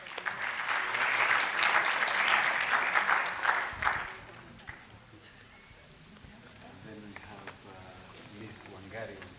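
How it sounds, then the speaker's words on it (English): Applause from a youth forum audience during an award roll call, a dense burst of clapping for about four seconds that then fades to scattered claps and talk. "Clap for Abdinur, eh?"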